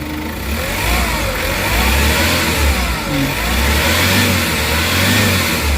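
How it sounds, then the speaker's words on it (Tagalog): A Hyundai H100 van engine with weak acceleration revs up and down close by, a loud, rough mechanical roar swelling and easing in waves with no talking. "Yung galit ng makina, talagang solido yung tunog."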